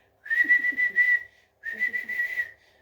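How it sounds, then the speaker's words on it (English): Two sharp, high whistle calls from a man whistling for his dog, each a quick rising-and-falling series of notes, loud and close with a short pause between them. "he kept whistling"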